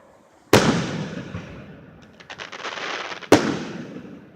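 Two sharp, loud firework explosions go off a few seconds apart, each decaying into a rumbling tail, with faint crackling between them.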